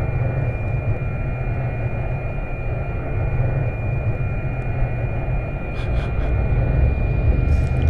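Cessna 208 Caravan turboprop engine in a flight simulator, a loud, steady drone with a constant hum that fills the stretch without a break, and no talk.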